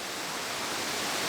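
Anna Ruby Falls near Helen in north Georgia pours steadily, giving a broad, even rushing hiss that fills the short stretch at close range with no voices.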